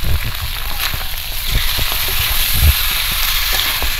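Spice paste hits hot oil with desi chicken and potatoes frying in a pan, giving a loud, steady, close sizzle with scattered stirring knocks and scrapes throughout.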